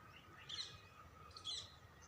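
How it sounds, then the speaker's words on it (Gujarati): Small birds chirp from village trees in the morning, two brief bursts of high twittering about a second apart, faint and fairly distant over a quiet outdoor background. "ઝાડવાની ટગલી ડાયરે બેહીને કલરવ કરે છે."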